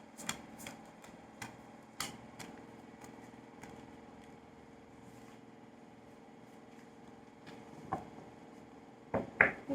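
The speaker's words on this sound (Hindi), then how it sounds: "मैं कार्ड फिर से फेंट रही हूँ।" Tarot cards are shuffled by hand, giving soft repeated riffling clicks and flicks at a close, quiet level over a low steady background hum, with a few louder taps near the end.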